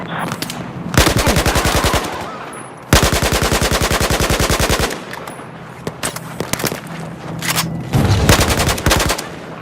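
Battlefield 4 campaign firefight on PS4: loud, sustained bursts of rapid automatic gunfire, several long strings of shots separated by short pauses, with scattered single reports between them.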